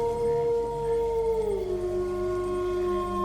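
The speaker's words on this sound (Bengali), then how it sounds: "দূরে আবার শিয়ালের ডাক শোনা গেল।" A jackal howls in the distance on a rainy night by a paddy field, one long sustained wavering cry that dips midway and carries on steadily, with no talk.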